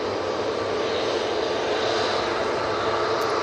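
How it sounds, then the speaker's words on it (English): Boeing 737-800 jet lined up on the runway at Manchester Airport ready to depart for Derry, its engines giving a steady, broad hum and roar at moderate level, unbroken and without speech. "737-800 now lined up, ready to go. We're off to Derry."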